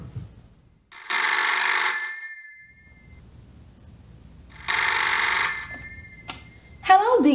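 A telephone rings for an incoming caller on a call-in show, two loud electronic ring bursts separated by a pause, followed by a brief click and a voice.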